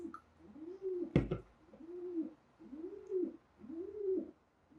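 Pigeon cooing in a steady rhythm, four soft rolling coos about a second apart, moderately close, with a brief sharp knock near the start and no talk.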